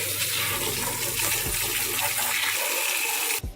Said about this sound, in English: he's gonna wash out the air box for me